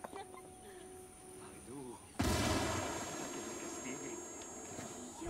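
A frag grenade goes off in Ghost Recon Wildlands on extreme difficulty: after a quiet stretch of ambient game sound, a sudden loud broadband blast bursts in and leaves a long rumbling, crackling tail.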